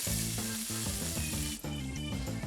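Sucuk sausage fries in a pan as a tablespoon of butter goes in, a loud, close, continuous sizzle with a rhythmic pattern of stirring or scraping running through it and no talking.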